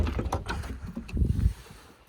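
The trunk of a Volvo S60 T6 R-Design opening, a short sequence of mechanical clicks, whirs and clunks from the latch and motor, fairly close and moderately loud, without speech.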